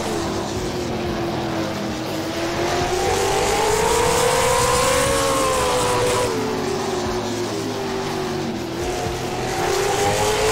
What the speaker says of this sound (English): I hear some cars out on the track.